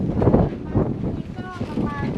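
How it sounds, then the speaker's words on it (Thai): Wind gusts across a mountain campsite, buffeting the microphone in uneven rumbling bursts while faint voices are heard underneath. "ลมจะพัดอย่างนี้ทั้งคืนเลยหรือเปล่าครับ"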